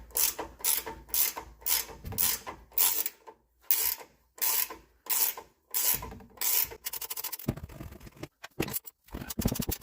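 Ratchet cranking repeatedly on 15 mm strut bolts of a 2015 Ram 1500 during leveling kit install, a steady series of close, loud clicking bursts with brief pauses, no voices.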